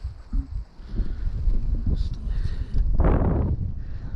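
Wind gusts across a frozen lake during ice fishing, making a steady low rumble of buffeting against the microphone that swells into a stronger gust midway.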